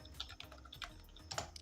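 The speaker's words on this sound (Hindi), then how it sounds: "अब मैं यहाँ पर जो भी प्रोडक्ट हैं उनको मैं टाइप कर लेता हूँ।" Quick, light keystrokes on a computer keyboard patter in an irregular run of soft clicks, close and fairly quiet, with no talking.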